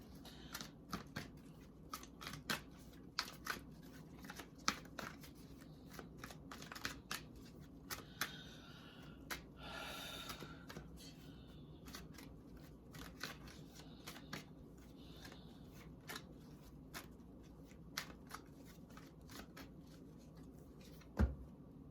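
Tarot cards being shuffled and pulled during a pick-a-card reading, a steady run of soft riffling snaps and paper flicks, close and quiet, with no talking.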